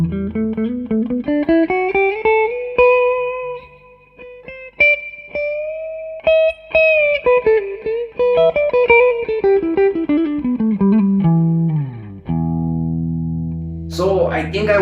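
A Gibson Les Paul electric guitar plays a slow, melodic line of sustained single notes and bends, bathed in reverb set halfway, with notes blooming and trailing off before a final chord rings out.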